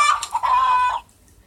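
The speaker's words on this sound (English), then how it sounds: "Chicken." A single chicken clucks as a sound effect, a short, close, bright burst of clucks lasting about a second before cutting to quiet.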